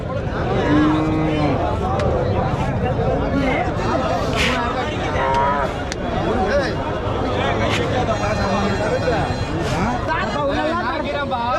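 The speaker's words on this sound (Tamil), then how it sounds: "மாடுகள்லாம் இந்த வாரம் நிறையா வந்துருக்கு" Cattle moo repeatedly at the busy Marapalli cattle market, loud and close, layered over constant crowd chatter and people talking nearby.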